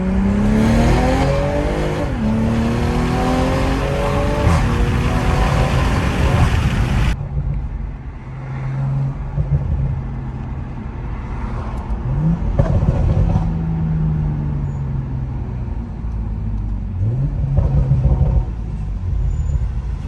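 A BMW M340i with a B58 engine, catless downpipe and inlet pipe, accelerating hard: loud rising engine revs climbing through gears, a brief shift break, then renewed pulls with pops, heard from inside the car.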